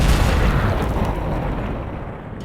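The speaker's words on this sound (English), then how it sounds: "At 9:12 a.m., an explosion ripped through the ship." Massive explosion aboard the Grandcamp cargo ship at Texas City, a heavy broadband boom that starts loud and decays into a long rumbling roar, with no voices.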